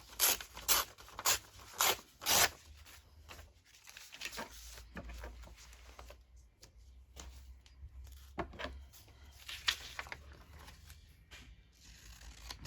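Paper torn by hand for a Christmas junk journal, a run of four or five sharp, close ripping bursts at the start, then quieter rustling and handling of paper with a few more scattered tears.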